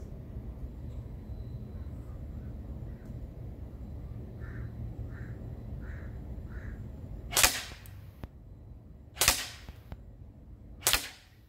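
A KWA Ronin T10 airsoft rifle fires three crisp, evenly spaced shots, each a sharp snap standing clearly above a quiet outdoor background.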